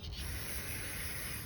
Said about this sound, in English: so once you spray it out with the carb clean